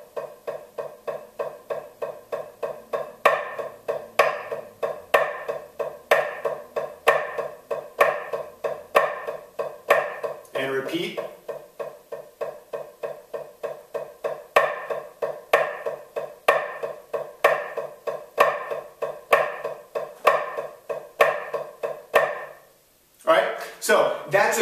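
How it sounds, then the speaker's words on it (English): A snare drum works through a rudiment exercise: steady triplet taps, then accented triplets, then flam accents, struck in an even, rapid rhythm close up with a brief break midway and a short pause near the end. "play one measure of triplet taps, followed by one measure of accented triplets, followed by one measure of flam accents"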